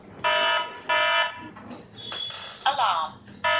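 A Hikvision DS-PWA32 AX Hub wireless alarm panel blares in repeated loud electronic bursts nearby, with a synthetic voice announcing between the tones.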